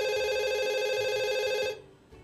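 A telephone rings for an incoming call on a live phone-in prize show, a clear electronic ring of about two seconds that stops abruptly and leaves near silence.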